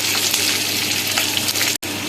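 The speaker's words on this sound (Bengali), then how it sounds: "টুকরো টুকরো করে রাখা পেঁয়াজ আর ক্যাপসিকাম দিয়ে দিচ্ছে এর মধ্যে এটা বেশ হালকা করে একটু ভেজে নেব" Chopped onion and capsicum fry lightly in a pan for chilli chicken, giving a loud, continuous sizzle with soft stirring sounds and a brief dropout near the end.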